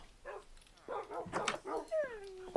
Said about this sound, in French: Un peu beaucoup de chiens.